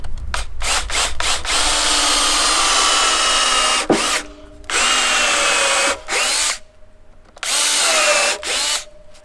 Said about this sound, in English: I'm going to pre-drill those holes now.